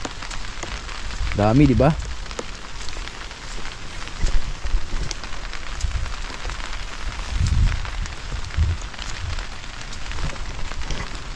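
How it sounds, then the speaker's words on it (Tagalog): Light rain patters steadily on an outdoor surface among tomato plants, a soft continuous wash with occasional gusts of wind and brief speech near the start. "Okay lang tong ganito, ulan-ulan lang."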